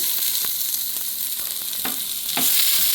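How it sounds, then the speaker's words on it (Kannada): Chopped onion sizzling in hot oil in a pan, a steady close crackling hiss with small scraping stirs and pops throughout. "ಎಣ್ಣೆ ಬೆಚ್ಚ ಒಂದು ಬೈದುಂಡು ಇತ್ತೆ ನೆಕ್ಸ್ಟ್ ಆನಿಯನ್ ಪಾಡುವ"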